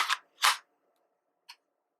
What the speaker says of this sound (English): Notice that it clicks into place.